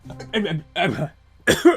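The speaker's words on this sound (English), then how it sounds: "It's a cough burp." A quick throaty cough followed by a short burp, with vocal sounds just before, all close to the mic.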